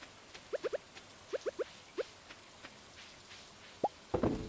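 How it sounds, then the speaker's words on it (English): Rainfall in the video game Stardew Valley, heard as faint, sparse plinks and drips scattered over a quiet background, ending in a short, louder splash. "what do I do during acid rain days?"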